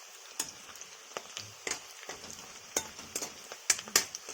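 Onions frying in a pan for masala dondakaya (ivy gourd curry), a soft steady sizzle with scattered crackles and pops, close and fairly quiet, with no voices.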